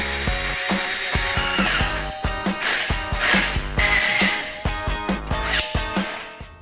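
Bolts are driven into a metalon tube sofa frame with a hand ratchet, giving rapid repeated clicking pawl strokes in quick bursts, close and loud, with brief pauses between runs.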